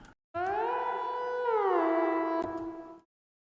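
A synth transition effect built in FL Studio with Serum: one sustained harmonic tone that glides downward partway through, with a brief click near the end, rising in and cutting off cleanly after about three seconds, alone.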